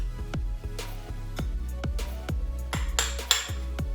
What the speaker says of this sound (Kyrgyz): Эми экөөнү жакшылап аралаштырып алабыз.